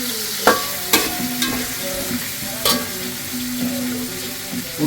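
Onions frying in a pan for chicken masala, a soft continuous sizzle broken by several sharp stirring clicks and scrapes at irregular intervals, close and clear.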